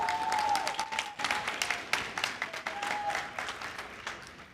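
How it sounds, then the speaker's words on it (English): Graduates at a graduation ceremony applaud themselves in a dense, steady round of clapping that fills the room, with a few sharp whistles rising above it. "Please clap for yourselves."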